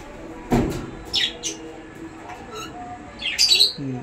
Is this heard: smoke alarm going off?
no